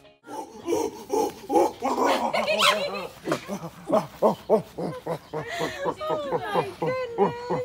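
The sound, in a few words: dog growling and jumping with excitement at owner's return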